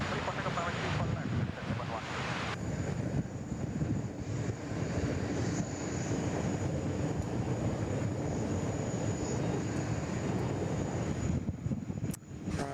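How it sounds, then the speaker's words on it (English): An Indonesia Airbus A330 takes off from runway 34 left at Sydney Airport, a steady broadband jet roar with a windy rush that holds loud and unbroken throughout. "I think that was the Indonesia 713 bound for Jakarta. A330. Just cleared for takeoff from runway 34 left."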